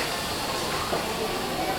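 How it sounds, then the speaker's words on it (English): A train at an Indian railway platform gives off a steady, loud hiss and rumble throughout, with voices faintly underneath. "so that's a train, but not ours."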